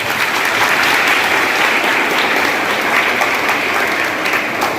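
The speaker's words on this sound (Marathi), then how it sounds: "तुमच्या टाळ्यांचा कडकडाट हवा असतो" An audience at a school celebration for Chhatrapati Shivaji Maharaj Jayanti claps loudly, a dense continuous burst of applause that holds steady for several seconds without speech.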